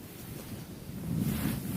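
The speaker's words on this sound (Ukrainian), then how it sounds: "Ну, все-таки вітер тут дує сьогодні." Steady wind rushes and buffets the microphone on the Zbruch River during winter spinning fishing, a low rumbling roar that grows a bit stronger toward the end, with no voices.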